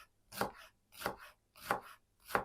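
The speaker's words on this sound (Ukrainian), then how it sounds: "А так, все решта дрібненько нарізаємо до салату." Four evenly spaced knife chops strike a board as vegetables are finely cut for a meat salad with mushrooms and pickled cucumber, crisp and close in an otherwise quiet kitchen.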